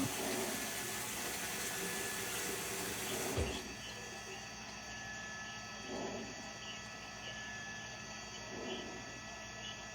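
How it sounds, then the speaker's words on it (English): Water running and splashing into a cooking pot in a busy kitchen, a steady broadband wash with a brief knock near the start and faint clatter behind it. "Very least gotta put a little water in"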